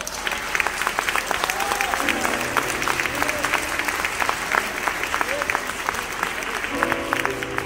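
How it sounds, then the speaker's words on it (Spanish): Theatre audience in Mexico applauds after a flamenco rumba performance, dense clapping with scattered sharp claps and faint whistles or cheers mixed in, steady throughout. "¡Aplauso!"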